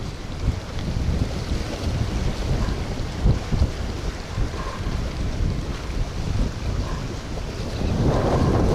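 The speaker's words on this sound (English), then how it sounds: "That wind is like blowing straight this way, so it's really hard to get over there in a good spot." Strong wind buffets the microphone out on the water during Florida Gulf Coast fishing, a loud, continuous low rumble with lapping waves beneath, steady throughout and no speech.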